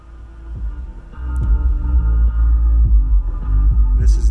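An electric car's high-voltage 112,000-watt sound system, unfiltered, pumps deep throbbing bass pulses that swell loud and rumble continuously at close range, with a steady low hum underneath.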